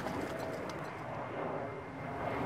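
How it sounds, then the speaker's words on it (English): Airliners, including British Airways jets, fly over a castle in the early morning, producing a steady, broad roar that fills the stretch, with pigeons cooing and birds calling over it and no talking. "the dawn chorus this morning are the Branson birds and the British Airways migrating in from the Americas"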